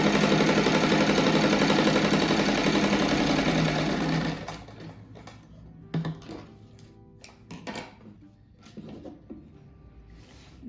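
A sewing machine stitches an oval rug, running loud and steady for about four seconds before stopping, followed by quieter handling clatter and small knocks.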